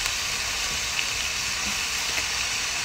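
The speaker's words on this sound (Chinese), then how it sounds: "翻炒翻炒啊！" Steady hot sizzling of seafood being stir-fried in a pan, with a continuous loud hiss and faint clinks of stirring, no talk.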